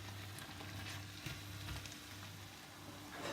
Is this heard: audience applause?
no